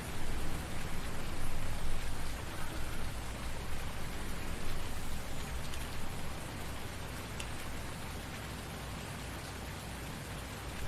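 Steady rain falls in the Farming Simulator 19 video game, a dense, even wash of patter that swells slightly early on and then holds constant throughout, with no voices.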